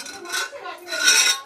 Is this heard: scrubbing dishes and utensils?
yes